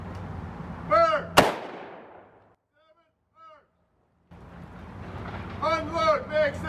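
A rifle volley fired at a remembrance service rings out as one sharp, loud crack, shortly after a shouted command, with voices calling orders before and after and a brief quiet pause.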